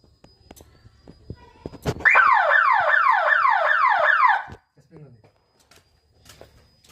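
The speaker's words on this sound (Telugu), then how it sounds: "సైరన్ మోతుంది" A solar fence alarm siren wails electronically in rapid rising sweeps for about two seconds, loud and close, with quiet surroundings before and after.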